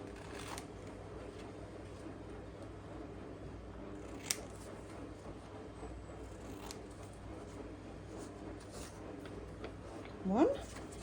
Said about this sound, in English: I'm just going to cut out some paper. This is just blotting paper